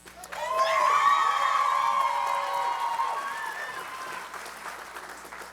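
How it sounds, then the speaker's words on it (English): Audience applause at a Dancing With The Stars event, swelling quickly into loud clapping mixed with cheers and shouts, then gradually fading toward the end. "I can tell by your applause"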